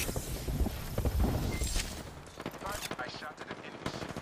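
Bangalore's ultimate artillery barrage in Apex Legends, a rapid burst of crashing impacts and gunfire-like blasts, loud at first and then thinning out, with players talking over it.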